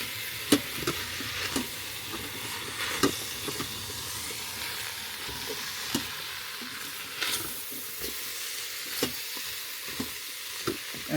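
Spoon stirring curry spices into codfish curry in an Instant Pot, a steady low scraping and swishing with soft clicks of the utensil against the pot, close and moderate, no talk.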